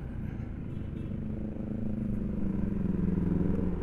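Yamaha NMAX 155cc scooter accelerating on a test ride, a steady engine drone rising in pitch with a low rumble, heard up close over constant road and wind noise.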